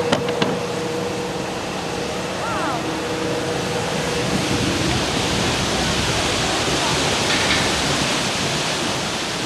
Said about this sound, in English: The warm water that's cooled all the equipment falls down through the air like rain